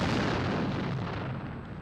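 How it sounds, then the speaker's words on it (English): A volcanic eruption blast from magma and expanding gases, heard as a loud, dense, rumbling roar that holds steady and fades slightly over under two seconds, with no voices. "These erupt when magma below forces its escape."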